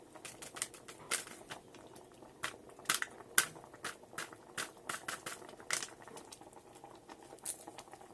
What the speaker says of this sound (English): Once the water starts boiling